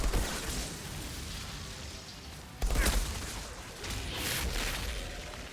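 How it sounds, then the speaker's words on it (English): Explosions in the video game Epoch, a dense rumbling barrage with a sharp, loud burst midway and a swelling blast afterward, with no talking. "Two explosions from that."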